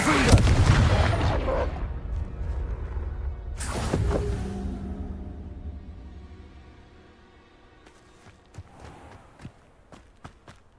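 The Confringo spell in Hogwarts Legacy goes off as a heavy, booming blast with a rushing whoosh, followed by a second burst and then a quieter stretch with scattered footsteps and clicks.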